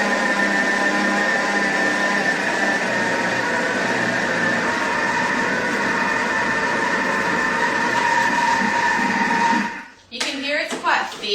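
A loud, steady blender motor whirs continuously for about ten seconds while blending homemade chocolate banana ice cream, then cuts out abruptly, followed by brief clattering and handling noises.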